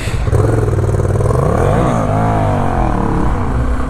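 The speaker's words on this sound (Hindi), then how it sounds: "अरे वाह, सुपर बाइक चला रही है लड़की, डुकाटी" A powerful Ducati superbike engine revs loudly and continuously, its pitch rising and falling through a sweep of harmonics, close and dominant.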